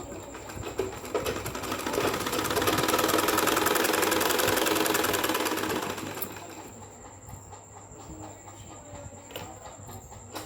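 A sewing machine stitches a salwar while the fabric is folded by hand into a belt, a loud steady mechanical whir that builds for several seconds, then drops away to quieter handling noise.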